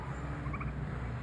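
Royal Palm and blue slate turkeys gobble together in the morning sun, a short, faint rolling burble at a distance.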